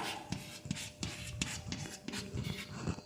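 Chalk or marker scratches across a classroom board as a carbon chain is drawn, a series of short rubbing strokes in uneven rhythm, fairly faint and with no voices.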